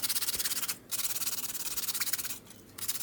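Steady back-and-forth sanding strokes rasp against the hard outer shell of a coconut in a quick, even rhythm, pausing twice briefly before resuming.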